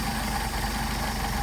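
A Mercedes 190SL engine with rebuilt carburetors idles steadily, a close, even low rumble with a faint rhythmic pulse and no voices over it.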